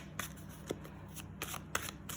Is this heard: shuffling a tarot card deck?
yes